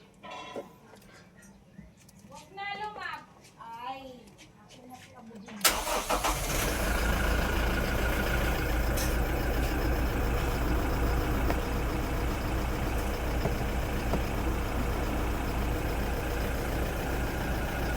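A Toyota Innova showing check engine, warning and electronic stability control lights cranks and fires up, then settles into a steady, loud idle that runs on alone after a brief stretch of talk.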